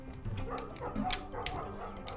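A dog barks in the video game Night in the Woods, short faint yips and woofs heard over a busy, muffled game background.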